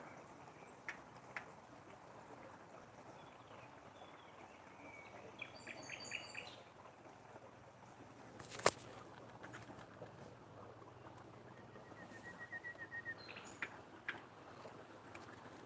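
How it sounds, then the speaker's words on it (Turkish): Birds chirp and sing outdoors at a moderate distance, with scattered calls over a quiet ambient background and one sharp click partway through. "kuş seslerini duyuyor musunuz?"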